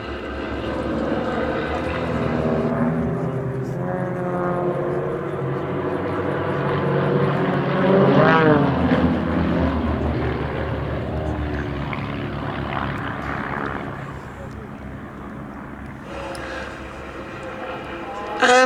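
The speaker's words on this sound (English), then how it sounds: "So in they come then, with Simon leading the way up for their first aerobatic manoeuvre, the Delta Loop" Team Raven's Grob Tutor propeller aircraft fly in formation into a Delta Loop at the Duxford D-Day80 summer air show, a continuous droning engine roar that swells and fades at a distance, with commentary over it.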